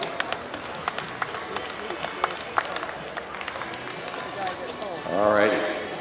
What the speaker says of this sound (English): How about give him a big round of applause for Jordan Luster?